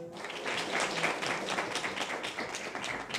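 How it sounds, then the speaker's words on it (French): Audience applause for contestants at a televised neighbourhood pageant event, steady dense clapping at moderate distance, continuous throughout without breaks. "Je vais vous applaudir, s'il vous plaît."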